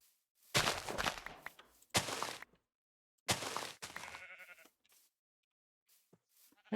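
Blocky video-game sheep bleat in a Minecraft-style world, three or four short close bleats separated by silence, followed by a few faint soft game sounds.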